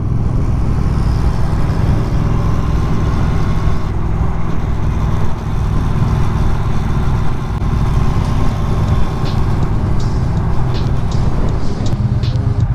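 A Triumph Speed Twin 900 motorcycle engine idles steadily with a deep, continuous rumble, close and loud, with no talking.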